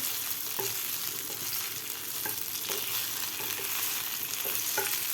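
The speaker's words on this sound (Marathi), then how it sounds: "आता आपण ह्याला व्यवस्थित हलवून घेऊया" Stuffed okra (bharli bhendi) being stirred in a pan over a low flame, an even continuous sizzle broken by soft periodic scrapes of the spoon, close and steady with no talking.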